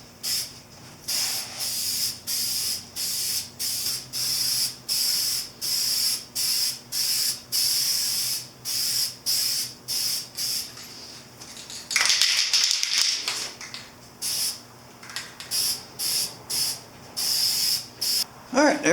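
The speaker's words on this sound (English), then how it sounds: "we're going to go ahead and hit everything with a second coat of black" An aerosol can lays a second coat of black paint on parts of a 1983 Honda CB1000 cafe racer, hissing in a long series of short, evenly spaced close bursts, with one longer spray near the end.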